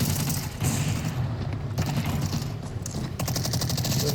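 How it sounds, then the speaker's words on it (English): Sustained automatic gunfire crackles and rattles throughout, dense bursts of machine-gun shooting that stay loud and close from start to finish, with no talk heard over it. "Who is shooting?"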